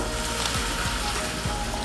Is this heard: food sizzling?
yes